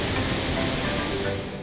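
Murchison Falls, where the Nile plunges 43 meters through a narrow gorge, gives off a thunderous roar: steady, dense broadband rushing water, loud and unbroken throughout with no voices.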